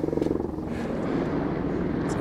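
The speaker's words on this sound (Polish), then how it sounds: "Są dwa helikoptery. Ten jeden będzie tu lądował." A helicopter flies in to land near a mountain memorial on a trek, its rotor giving a steady low throbbing chop, pulsing strongly at first then settling into a continuous drone at moderate distance.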